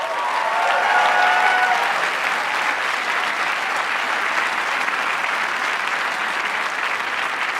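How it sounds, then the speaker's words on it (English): An audience at the 2015 Hult Prize finals and awards ceremony at the Clinton Global Initiative applauds all six teams, with dense, steady clapping that holds loud and even for several seconds with no voices over it. "Let's give a warm CGI-style applause for all 6 teams."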